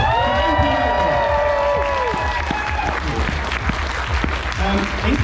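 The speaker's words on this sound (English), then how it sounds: "How about one more huge round of applause" A convention audience at a charity auction bursts into loud, dense applause and cheering that gradually thins, with voices calling out over the clapping.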